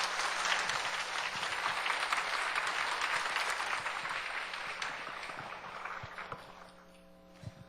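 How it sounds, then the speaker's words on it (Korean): A crowd at a Korean religious gathering claps to welcome an instructor to the stage, dense steady applause filling the room before tapering off near the end. "우리 박현태 교관님 박수로 모시겠습니다"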